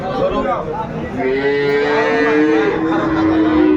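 A cow moos at a village cattle market in Dinajpur, its drawn-out low call rising over a constant crowd murmur and nearby talk.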